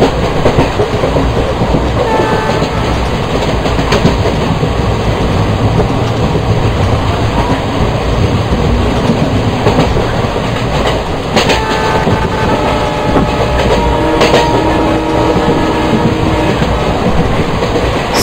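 A WDM3A diesel locomotive runs steadily in the MSTS Open Rails train simulator, a loud continuous engine drone with rhythmic wheel clatter and occasional brief horn-like tones, no voices.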